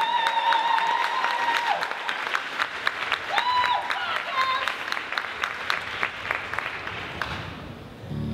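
Applause and cheering from a school audience after a City of Norwich School dance performance, a dense sustained wash of clapping from a crowd, with a voice speaking over it and electronic tones mixed in.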